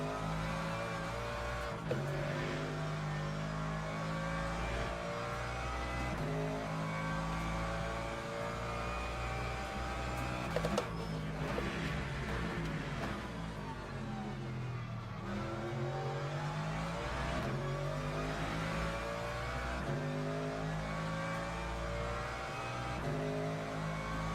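LMGT3 race car engine in a sim racing game on the Algarve circuit, loud and continuous, revving up and down through gear changes with steady harmonic whine and occasional tire squeal, no voices.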